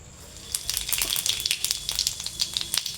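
Cumin seeds tempering in a ladleful of hot oil, giving a rapid close crackle of small pops and sputters that builds after the first half second and keeps going, with no voices.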